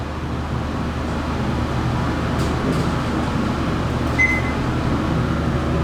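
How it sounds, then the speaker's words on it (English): A steady low hydraulic elevator motor hum drones throughout with faint mechanical whirring, continuous and moderately loud, with a brief high beep near the end; a Dover hydraulic service elevator going up. "Let's see if we can hear the motor going up."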